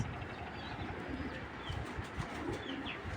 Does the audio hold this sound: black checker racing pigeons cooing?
yes